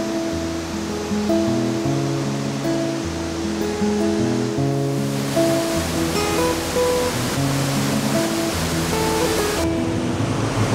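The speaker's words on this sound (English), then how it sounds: "right at the end of the wet season when the waterfalls are at their most spectacular" Kimberley waterfalls at the end of the wet season, on the Prince Regent River, pour with a loud, steady rushing roar, heard under a layered musical soundtrack with no talking.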